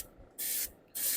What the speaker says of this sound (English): let's start actually priming our Thor here